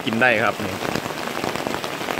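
Rain falling at a campsite near a waterfall in Khao Yai, a steady patter on surfaces under a voice that talks through the whole stretch.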